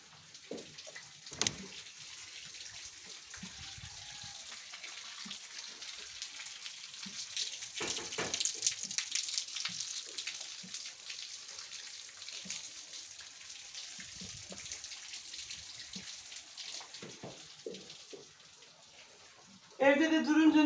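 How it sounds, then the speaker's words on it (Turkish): Steady heavy rain hissing and pattering continuously, with scattered drips and faint voices underneath, swelling briefly louder toward the end. "pek belli olmuyor yağmur yağdı ya, ama çok yağıyor."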